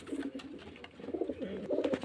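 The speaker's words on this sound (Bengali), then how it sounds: "এগুলো সব পিওর মুর্শিদাবাদের দেশে গিরিবাজ পায়রা" Giribaz pigeons from Murshidabad cooing in soft, rolling low murmurs that overlap continuously, close by, with no talking.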